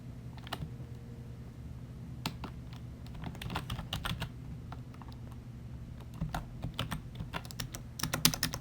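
Typing on a computer keyboard, a run of quick, close key taps in uneven bursts with short pauses, ending in a denser flurry of keystrokes over a low steady background hum.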